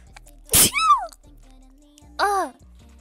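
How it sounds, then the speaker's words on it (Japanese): A VTuber's sneeze bursts out loudly and close, a sharp breathy explosion followed by a short voiced tail, and a second shorter vocal sound comes a moment later. "くしゃみが"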